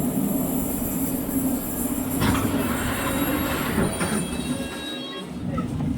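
A train sits at a UK station platform, giving a steady, fairly loud rail rumble throughout with a brief metallic wheel squeal partway through; no one speaks.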